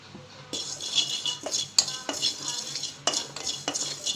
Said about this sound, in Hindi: 1/2 टीस्पून कलौंजी और 1/2 टीस्पून से कम अजवाइन डाल के ड्राई रोस्ट कर लूँगी